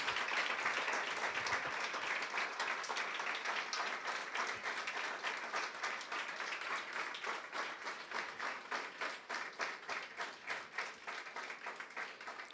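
Many worshippers in a church keep up continuous group applause, a thick wash of hand claps that grows more rhythmic and pulsing toward the end, with no speech on top.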